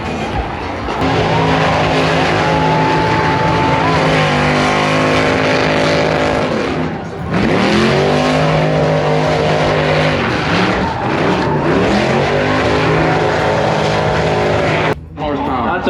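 An LS-engined truck revs hard and loud at a car event, with long sustained roaring pulls and brief drops between them, while a crowd cheers and voices shout over it.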